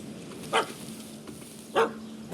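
Two short, sharp barks from a puppy in The Witcher 3 game, spaced about a second apart over a hissy ambient game backdrop, moderately close and clear with no talking.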